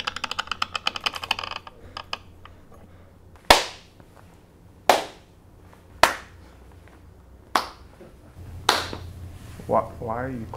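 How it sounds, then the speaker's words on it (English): A person clapping hands: a few sharp, separate claps spaced about a second or more apart, crisp and close, with quieter tapping before them. "Why are you clapping?"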